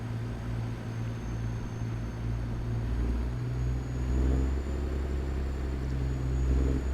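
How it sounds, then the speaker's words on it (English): A truck rumbles past on a rural road in farm country between Montana and Idaho. A low, steady engine drone with a slight swell midway, moderately close, with no talking. "There's a truck."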